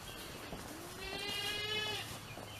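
A single goat gives a drawn-out, wavering bleat on a farm during morning milking, clear and fairly close against quiet outdoor background noise.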